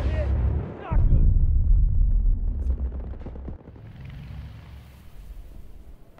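Battlefield 2042 video game gunfire: a dense, loud barrage of shots and explosive rumble that rolls on continuously and then eases into lighter firing, with a brief shouted voice near the start.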